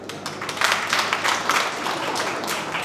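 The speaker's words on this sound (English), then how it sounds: "Can we clap?" An audience at a GRNMA Ashanti workshop breaks into clapping: a dense, continuous patter of many hands, fairly loud and steady throughout without talk.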